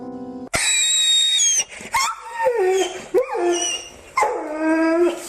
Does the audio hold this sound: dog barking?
yes